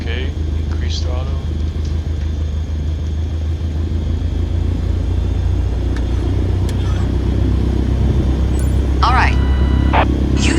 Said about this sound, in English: now gently increase throttle to get the aircraft moving